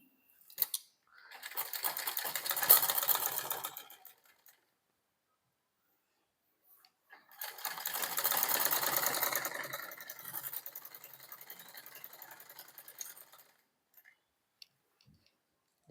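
Sewing machine stitching a fabric collar, two long runs of rapid mechanical clicking separated by a pause, close and clear.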